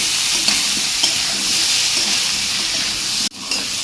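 Chopped onion and small potatoes fry in hot oil for a soybean curry, a loud continuous sizzle and hiss with faint stirring scrapes and one sharp clank near the end.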